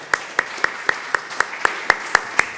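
A single person claims a steady, evenly spaced beat, about ten sharp claps in two and a half seconds, close and moderately loud over a soft room hiss, at a Spanish-language comic book presentation as a brief round of applause for a speaker.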